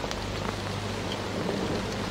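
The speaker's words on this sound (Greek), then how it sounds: "Είναι τόσο ωραία όταν βρέχει." Steady rain falling, a continuous dense hiss of drops on surfaces with a low constant hum underneath, evenly loud throughout with no voices.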